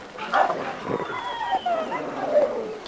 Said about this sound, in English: This is our Thunder Dog